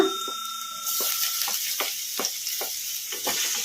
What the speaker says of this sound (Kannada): ಬೆಳ್ಳುಳ್ಳಿ ಆಸೆ ವಾಸನೆ ಹೋಗೋವರೆಗೂ ಫ್ರೈ ಮಾಡ್ಕೊಂಬಿಡೋಣ ಮೀಡಿಯಮ್ ಫ್ಲೇಮಲ್ಲಿ